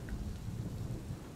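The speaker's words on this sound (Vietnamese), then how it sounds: "chợt một luồng sáng đánh xuống, kèm theo đó là tiếng nổ đinh tai" A thunder crash with a lightning strike, a brief loud rumbling burst with a rain-like hiss over it, heard alone with no voices.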